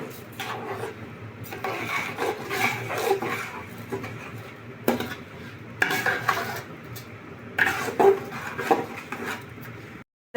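Polao rice is stirred as it fries in a pot, with repeated scraping and clinking of a spoon against metal over a soft sizzle, coming in uneven close bursts.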